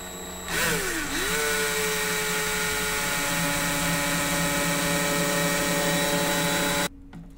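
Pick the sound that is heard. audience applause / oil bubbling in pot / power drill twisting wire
power drill twisting wire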